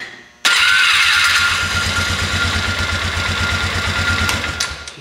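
A 2002 Polaris Ranger 500 utility vehicle engine turning over on a new starter, a loud steady rhythmic cranking chug that starts abruptly and runs for several seconds, with no talking.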